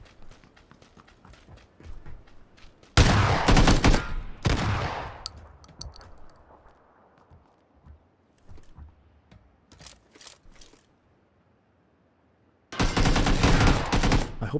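Loud bursts of rapid automatic gunfire in PUBG, with one long burst early and another at the end, separated by quieter in-game movement and small scattered noises.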